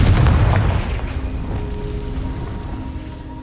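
A Confringo fire spell explodes in Hogwarts Legacy near a stately old castle estate, a loud low boom at once that rumbles and slowly fades with a faint ringing tail.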